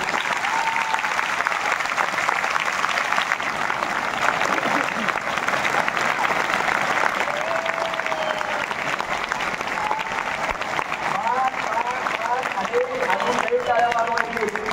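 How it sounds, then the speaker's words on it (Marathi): An audience claps loudly and continuously throughout, a dense, even wash of applause from a sizeable crowd at a public talk, with a voice and some whistles faintly audible under it. "तुम्ही कडकडून टाळ्या वाजवल्या पाहिजे"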